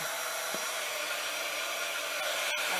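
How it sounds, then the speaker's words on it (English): A heat gun blows with a steady, loud roaring hiss as it warms up before drying ink on a card, one unbroken whoosh with a faint click near the end. "you get your heat gun. I'm going to turn it on because I want it to heat up a little bit"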